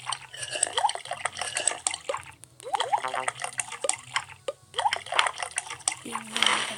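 Water being poured or collected in a Minecraft-style survival game, with short liquid splashes and trickles recurring in a few bursts against a low steady background hum.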